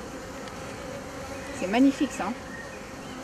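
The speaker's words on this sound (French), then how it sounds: "Oh, il est énorme, cet essaim." A large swarm of black honeybees hums as a steady, diffuse buzz, with a few nearer bees passing close for a moment while a person speaks briefly over it.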